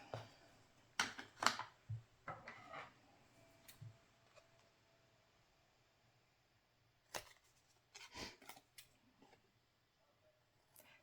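Scissors snipping small bits of paper and packaging cardstock for a handmade Christmas journal, a quick cluster of crisp cuts, then a pause and a second burst of snips, faint and close against a quiet room.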